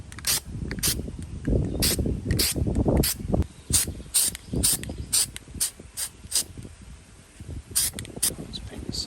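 Brown base coat is sprayed onto a motorized bike in short bursts of hissing spray, repeated in an irregular rhythm, while someone talks over much of it.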